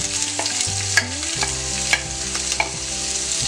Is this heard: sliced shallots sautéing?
yes